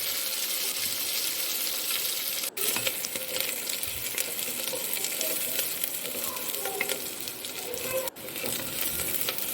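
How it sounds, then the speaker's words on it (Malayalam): Sliced onion sautéing in hot oil in a pan, a steady dense sizzle with scraping stir strokes throughout, close and continuous, no talking. "ഒരു സവാള എടുത്തിട്ടുണ്ട്. നല്ലോണം ഒന്ന് വഴറ്റി കൊടുക്കാം."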